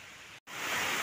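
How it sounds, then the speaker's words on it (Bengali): Heavy rain in a stormy, windy morning downpour roars through a window as a dense, steady hiss. It cuts out briefly, then returns slightly louder. "কি পরিমাণে বৃষ্টি হচ্ছে দেখো বন্ধুরা, আমি এটা জানলা দিয়ে ভিডিও করছি।"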